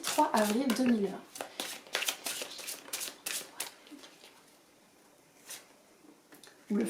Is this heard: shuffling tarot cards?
yes